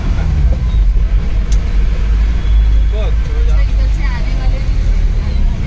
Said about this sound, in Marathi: पूर्ण ट्रॅफिक जाम झालेला आहे.